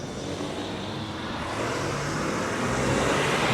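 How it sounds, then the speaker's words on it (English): Road traffic on East Park Drive beside Stanley Park in Blackpool, a continuous broadband roar of passing cars that swells slightly louder toward the end, with no voices. "So it's pretty busy, so sorry about the traffic noise."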